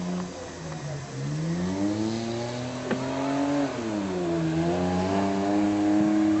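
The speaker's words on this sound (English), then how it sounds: "Driving a lap of the track." A stunt car at a Canadian Hell Drivers show in Reading, PA, drives a lap of the track, its engine steadily revving and droning with rising and falling pitch, loud and continuous.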